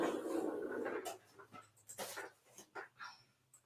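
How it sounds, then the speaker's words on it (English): A calm dog panting indoors, loud breathy rasps at first, then short rhythmic puffs with soft whimpering sounds in between, close to the microphone. "I have the most calm dog sitting here"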